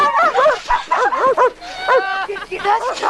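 Dog barking in the film Stand By Me, yips and whining bow-wow calls coming in quick bursts over about three seconds, mixed with film dialogue and voices.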